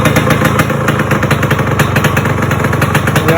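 Yamaha RX 100 two-stroke motorcycle, mid-rebuild, running at a rough, rapid idle with a loud, close, clattery putter throughout.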